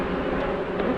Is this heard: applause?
no